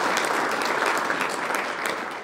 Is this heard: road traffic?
no